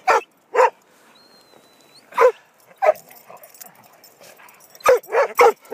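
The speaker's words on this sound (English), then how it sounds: "Who let the dogs out?" Dogs bark in short separate bursts, about eight sharp barks and yips with quiet gaps between them, close and clear.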